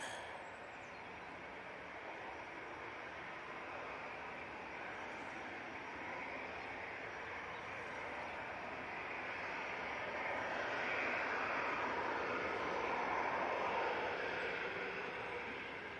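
An EasyJet airliner approaches Manchester Airport, a low, distant engine rumble that swells gradually toward the end, with no voices.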